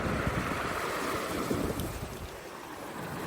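Agitated sea waves and wind on the coast near Gelendzhik in Krasnodar territory, Russia, give a continuous rushing roar with gusty wind buffeting the microphone.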